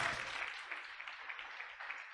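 A church congregation applauds during a Christian sermon, steady scattered clapping at moderate distance that continues evenly without talk.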